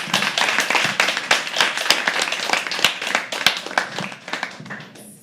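A small audience at a live poetry open mic claps in a steady stream of sharp, distinct hand claps, fairly close and lively, continuing for several seconds before fading out near the end.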